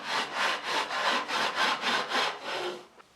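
Wood being sanded by hand with an unplugged drum sander, a rhythmic series of about ten rasping, sawing-like strokes, close and steady, fading out at the end.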